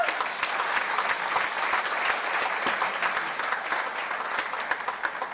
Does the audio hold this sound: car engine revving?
no